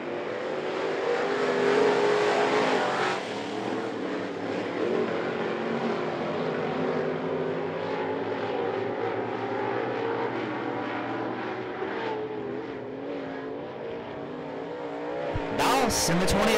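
Crate Late Model race cars roaring through a heat race start at I-75 Raceway, a dense continuous engine drone with rising and falling revs that persists throughout, ending in a sharp burst of noise.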